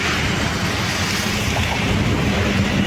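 Strong wind roars steadily across the microphone on the Bharalu Elevated Corridor in Guwahati, a dense, continuous rushing with no voices.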